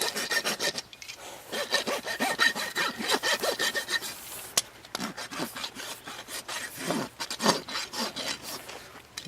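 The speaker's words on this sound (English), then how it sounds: "Now I'm just taking the outer wall back." A farrier's rasp scrapes back the outer wall of a mare's hoof in steady, rough strokes, close and loud, with brief pauses between bursts.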